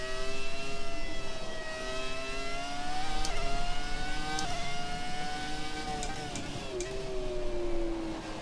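A high-pitched Ferrari F2004 Formula One engine in a racing video game at Spa screams steadily, rising in pitch through repeated gear shifts, loud and sustained with no talking.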